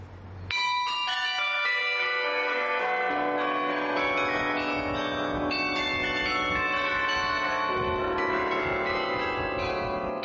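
Canberra's carillon rings out a rich, sustained peal of many bells played as a tune, the tones overlapping and ringing on continuously, full and resonant with no talking.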